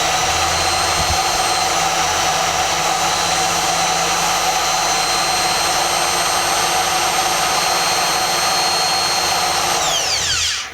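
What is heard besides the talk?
drill bit wearing a pattern into a cake stand surface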